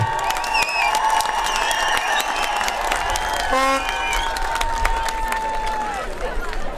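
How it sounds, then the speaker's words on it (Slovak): Audience applause and crowd noise fill a gala boxing evening in Poltár, steady clapping with a whistle-like tone and babble throughout, loud and close. "jeden obrovský potlesk aj pre vás a pre celý Poltár"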